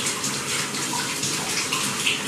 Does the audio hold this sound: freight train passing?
no